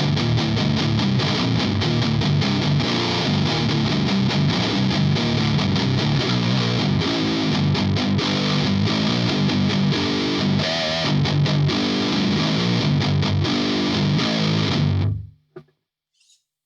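Heavily distorted electric guitar chords ring out through a Marshall amp, sustained and loud, then cut off abruptly near the end.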